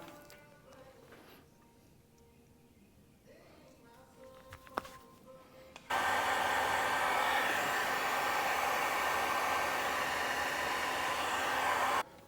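A heat gun blows a loud, steady, close rush of hot air for about six seconds while heating heat-shrink tubing on LED light wiring for a Polaris Ranger, after quieter handling noises.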